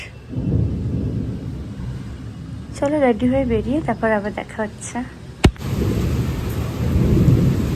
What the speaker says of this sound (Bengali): এত জোরে বৃষ্টি হচ্ছে